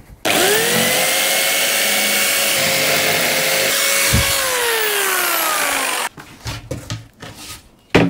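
A Parkside cordless jigsaw cuts through van flooring board in a Mercedes Sprinter conversion, giving a loud, steady buzzing saw whine for about six seconds that drops in pitch near the end before stopping, followed by faint clatter.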